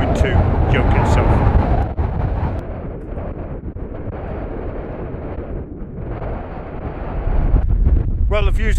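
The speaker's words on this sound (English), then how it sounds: "Wind's quite strong, as you can tell." Strong wind buffets the microphone on a fell summit near Yoke at the cloud base, a loud continuous roar with gusts swelling and easing throughout.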